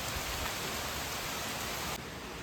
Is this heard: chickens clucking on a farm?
no